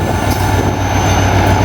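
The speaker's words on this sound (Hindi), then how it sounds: "Evergreen locomotive." A locomotive-hauled train rumbles past at close range in hot, harsh weather, a loud, steady low drone with continuous mechanical clatter and no break across the short stretch.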